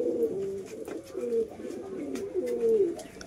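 Indian Giribaz pigeons cooing in soft, repeated rolling calls, close and moderately quiet, with several coos in quick succession and no talk.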